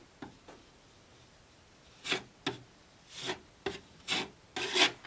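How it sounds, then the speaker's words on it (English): A handheld sanding block is rubbed against a surface being smoothed in a bedroom makeover, two light strokes followed by a quicker run of six rasping scrapes, close and alone. "And for sanding, I'm just using one of those blocks."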